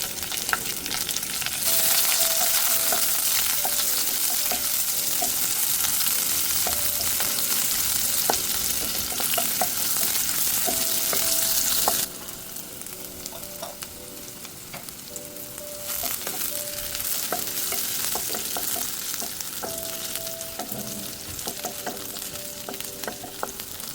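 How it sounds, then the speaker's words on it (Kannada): Chopped onion frying with curry leaves in a pan for bitter gourd gojju, a steady close sizzle running throughout with occasional stirring scrapes, dropping somewhat quieter partway through before picking back up. "ಚೆನ್ನಾಗಿ ಮಿಕ್ಸ್ ಮಾಡಿಕೊಂಡು ಫ್ರೈ ಮಾಡ್ಕೊಳ್ಬೇಕು ಈ ಆನಿಯನ್ನ"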